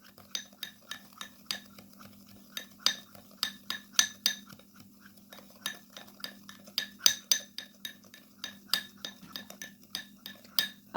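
Spoon clinking steadily against a small bowl while white vinegar and baking powder are stirred into a homemade paste, quick repeated taps close up with a faint background hum and no talking.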